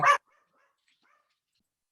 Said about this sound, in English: my dog started barking there